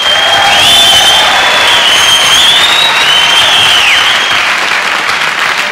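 Loud, steady applause from a large concert audience fills the whole stretch, with a few whistles rising above the clapping, as a keyboardist is introduced at a 1977 show.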